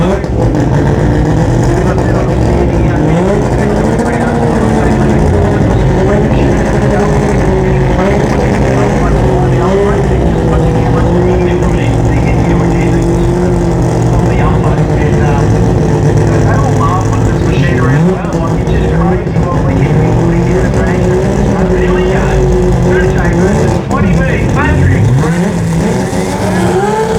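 A drag racing car at the Garrett Brisbane Jamboree: a loud, continuous engine roar with shifting pitch from revving and acceleration, under a commentator's voice heard throughout.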